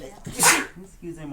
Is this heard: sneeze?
yes